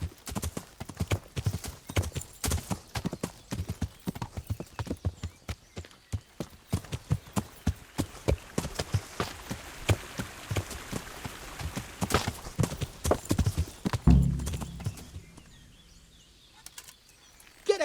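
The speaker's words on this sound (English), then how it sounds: "I'm afraid this horse is a runaway from the Ujit stables." Horse hooves clip-clop steadily in the medieval game Kingdom Come Deliverance, a quick regular rhythm of close, crisp hoofbeats that slow and fade near the end.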